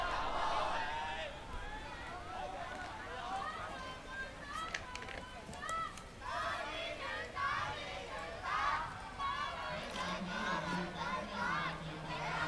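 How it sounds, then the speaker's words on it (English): Street protest crowd in Hong Kong chants slogans against the police, rhythmic massed voices and shouts rising and falling, with scattered bangs and nearer voices cutting through the din. "In the background, you can hear the crowd saying, dismantle the police force and do it now."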